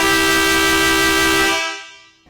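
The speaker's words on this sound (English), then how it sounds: "every wife's nightmare, the air horn" A loud, sustained air horn blast from a 2010 Sportscoach Pathfinder motorhome, with a steady brassy tone, held for about a second and a half before cutting off abruptly, leaving faint noise.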